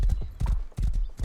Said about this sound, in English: You can get some really fast horses on this server.